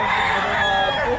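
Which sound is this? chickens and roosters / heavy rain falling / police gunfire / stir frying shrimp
chickens and roosters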